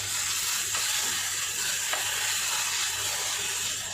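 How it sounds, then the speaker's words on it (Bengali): Grated coconut fries with sugar in a pan, giving a loud, steady, close hissing sizzle that holds unbroken, with a faint stir or two under it. "এই চিনিটা দিয়ে এবারে ভেজে নেবো।"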